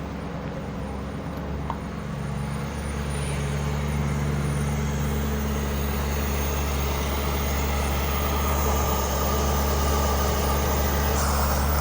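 A Lamborghini Urus engine runs at a raised idle with its oil filler cap off, a steady droning hum that grows slightly louder and holds evenly throughout, with no voices.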